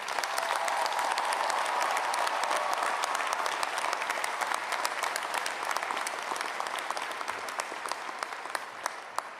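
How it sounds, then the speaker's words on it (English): A large graduation commencement audience at UNC-Chapel Hill breaks into sustained, dense applause, many hands clapping steadily throughout, with faint crowd murmur beneath and the clapping tapering slightly toward the end. "let's take a moment to give those wonderful people a huge round of applause"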